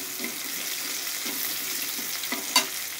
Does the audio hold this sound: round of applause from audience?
no